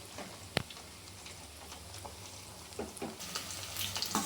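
Cauliflower frying in a pan, giving a soft, steady sizzle with scattered small pops and crackles throughout, fairly quiet and close, with a sharp tick near the start.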